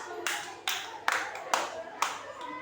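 A child in a classroom claps hands, five sharp separate claps at an uneven pace, close and clear, with faint background voices.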